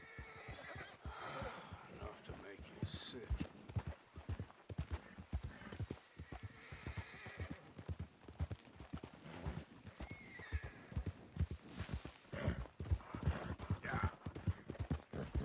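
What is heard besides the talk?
horse neighing and hooves clopping in a video game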